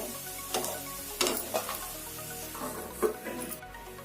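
Spice masala frying in oil in a pan on a stove over low heat gives a soft, steady sizzle, with occasional sharper crackles and stirring scrapes, fairly quiet and close.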